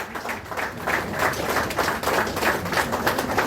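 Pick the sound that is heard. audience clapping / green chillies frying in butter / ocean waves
audience clapping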